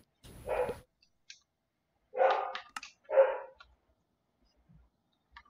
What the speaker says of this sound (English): There's my dog in the background.